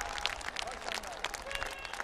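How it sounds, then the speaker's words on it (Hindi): Crowd of farmers clapping at a public event in Gorakhpur, a dense continuous burst of applause heard at a distance, steady throughout. "जिसको आपने तालियों के गाजे बाजे के"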